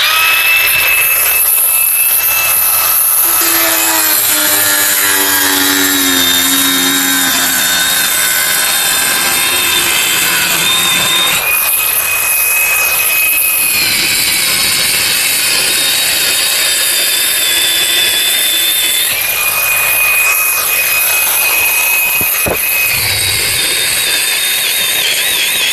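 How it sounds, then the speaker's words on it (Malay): A power tool saws through the vinyl floor surface of an IVECO van with a loud continuous high whine, pitch rising and falling in repeated passes, with a sharp crack near the end. "kita akan mulakan potong permukaan vinyl ni"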